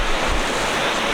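Sea waves and strong wind rush around a sailing boat in the dark, a dense continuous roar and hiss, loud and close.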